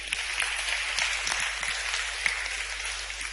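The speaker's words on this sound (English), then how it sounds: "Give her a round of applause" Scattered applause from a small group at a music lesson, light and fairly soft, a thin patter of hands that holds steady briefly.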